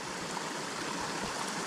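A small, low-flowing forest stream in remote wilderness, its water reduced by a beaver dam upstream, runs with a steady, close, broadband rush and babble throughout, with no voices.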